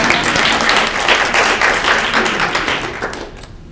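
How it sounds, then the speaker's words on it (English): A luncheon audience bursts into dense, steady applause that fills the room at close range, then gradually thins and fades out near the end. "You can clap if you want."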